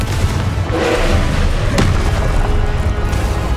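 A Confringo fire spell blasts in the Hogwarts Legacy video game, a loud, dense rumbling boom with one sharper crack partway through, with no talking.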